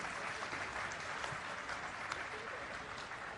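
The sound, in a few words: audience applause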